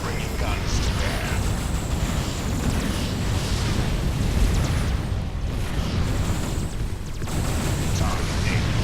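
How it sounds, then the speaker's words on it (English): Ship batteries firing in the space strategy game Sword of the Stars, a continuous loud roar of booming blasts and bursts that runs the whole stretch without letup, with voices speaking over it. "Firing on all batteries."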